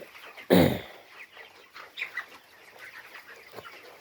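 Chickens in a coop give a loud, close cluck at the start, followed by softer scattered clucks and murmurs from the flock through the rest.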